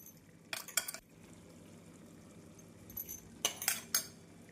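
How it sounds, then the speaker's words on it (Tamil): A spoon stirring onion pickle in a pan after fenugreek-mustard powder goes in, with two short bursts of scraping and clinking against the vessel over a faint, low sizzle, close by and without speech. "வெந்தய கடுகு பொடி சேர்த்து ஒரு முறை மிக்ஸ் செய்து"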